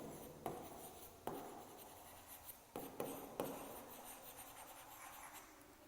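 A pen writing an answer on paper during a children's maths lesson, a steady soft scratching broken by a few sharper strokes, very faint and close, with no talk.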